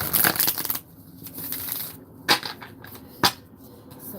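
A deck of horror-themed tarot cards being shuffled by hand, close up: a rustling flurry at the start, softer sliding, then two sharp card taps.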